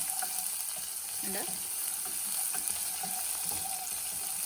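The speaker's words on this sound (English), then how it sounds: "I'm adding a chopped curry leaves and 1 chopped shallots." Chopped curry leaves and shallots fry in a pan over medium flame with black gram, giving a soft, steady sizzling hiss with occasional small pops, fairly quiet and close.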